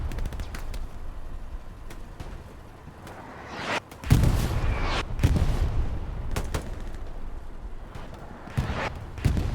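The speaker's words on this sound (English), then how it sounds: "he's getting attacked by artillery at the moment" Artillery pounds the battlefield in Hell Let Loose, with heavy booming impacts and crackling blasts arriving in irregular bursts, the loudest hitting midway and fainter rumbles following.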